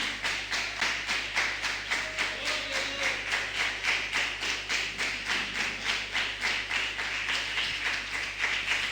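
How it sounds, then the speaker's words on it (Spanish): A congregation at a church service claps steadily in rhythm, an even, repeated patter of hands at moderate distance under a low constant hum, with no talking over it. "Denle un fuerte aplauso al Señor."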